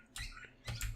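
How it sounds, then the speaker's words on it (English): Birds outside give short high chirps, two brief bursts separated by a pause, fairly faint and mixed with light clicking nearby. "Sorry about the birds outside."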